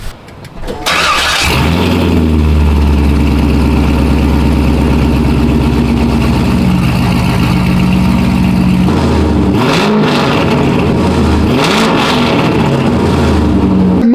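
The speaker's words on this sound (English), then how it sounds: "I'm gonna go start it and give you guys a couple revs." A Corvette sports car engine cranks and catches, then idles loudly before two sharp revs rise and fall near the end, close and dominant throughout.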